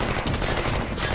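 A heavy machine gun fires in the Squad Battles Eagles Strike wargame, producing a dense, continuous, loud rattle that fills the whole moment without pause, with no voices over it.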